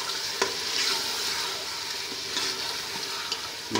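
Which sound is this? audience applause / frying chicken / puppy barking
frying chicken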